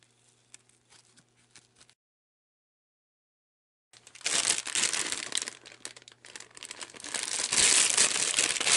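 Chinese paper packing material inside a handbag from an overseas parcel is crinkled and crushed, a few faint rustles first, then after a silent gap a loud, dense run of close crackling paper.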